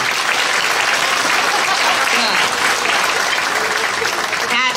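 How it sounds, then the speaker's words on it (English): A seated audience at a public bid law and contracts session claps loudly and steadily, a dense continuous wash of applause filling the room throughout. "I'm going to ask you to clap. Clap, come on. Real loud."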